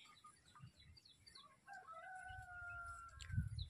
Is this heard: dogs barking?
no